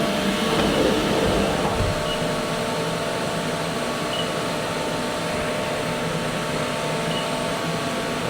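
A workshop dust extraction vacuum with a HEPA filter runs at a steady, loud whooshing roar, constant and unbroken throughout with no speech.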